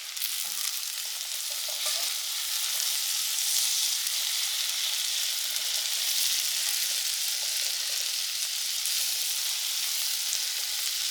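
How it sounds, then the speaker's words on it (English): Green chilies and tomatoes sizzle loudly in hot fat in a pot while a casserole is being made, a steady, bright frying hiss that runs unbroken throughout with no talking. "I'm going to add my green chilies in with my tomatoes"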